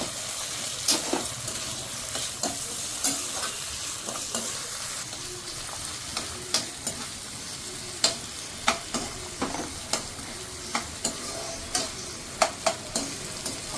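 Carrots stir-frying in a pan for a paneer vegetable snack, a steady low sizzle with repeated sharp scraping clicks of a spatula stirring, close and fairly quiet, no talking.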